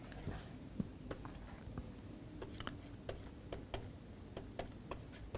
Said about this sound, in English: maybe I'll write this here